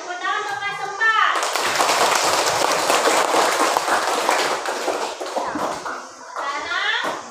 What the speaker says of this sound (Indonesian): Tepuk tangan untuk Kak Sempat.